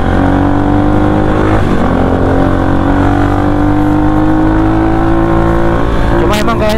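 Kawasaki KLX 250 supermoto motorcycle engine running close by and revving steadily, its pitch climbing slowly and then dipping before rising again, with a sharper burst near the end.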